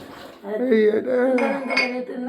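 Dishes, pots and plates being washed by hand clink and clatter in a steady run of knocks, close by, with a voice talking over them.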